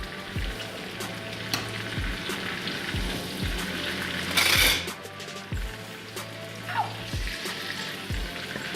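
Cinnamon bun dough frying in butter in a pan gives a steady bright sizzle throughout, with soft utensil knocks and scraping stirs recurring at intervals, close and moderately loud, with no talking.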